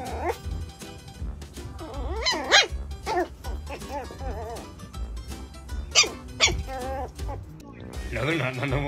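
Dogs barking and yipping in short bursts among speech and background music, with whimpers and playful growly yelps close to the microphone.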